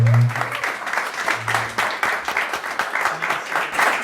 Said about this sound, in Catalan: Fora aplaudiment per en Gerard Ribas!